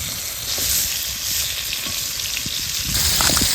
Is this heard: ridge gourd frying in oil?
yes